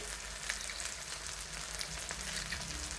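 Spices and chopped cluster beans fry in a pan for a village-style gavar bhaji, giving a steady, dense sizzle with faint scraping stir sounds throughout, close and unbroken, no voices.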